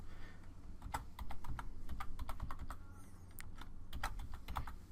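Rapid typing on a computer keyboard, crisp key clicks in uneven bursts over a low background hum, close and fairly loud throughout.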